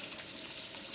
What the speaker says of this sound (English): Using a circular motion, you're going to build up that lather and wash the palms of your hands.